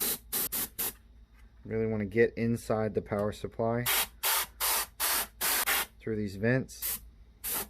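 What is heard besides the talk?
spraying canned air to clean a PS4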